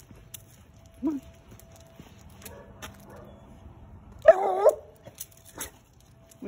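A dog gives a short yip and then a sharper bark a few seconds later. Both are moderately close against an otherwise quiet outdoor background.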